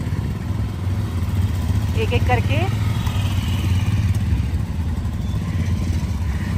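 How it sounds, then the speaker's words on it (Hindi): Bikers' motorcycles rev and pull away one after another in Leh, Ladakh, setting off toward Khardung La. A steady blend of engine drone runs beneath a voice. "सारे बाइकर्स की बाइक निकल रही है"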